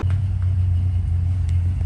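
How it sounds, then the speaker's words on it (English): A car engine idles steadily inside a garage, a deep continuous rumble with a low hum, close and unbroken, with no voices. "I got the car in the garage running"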